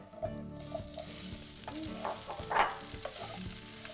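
Spices, salt, garam masala and chopped boiled potatoes stirred in a sizzling pan for samosa filling, soft scraping and knocking of a spoon over a quiet steady sizzle, close with no voices.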